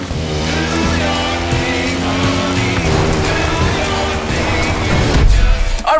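A KTM 450 enduro motorcycle in the racing game The Crew Motorfest drones steadily at high revs with a buzzing harmonic engine tone, loud and continuous throughout with a brief surge near the end.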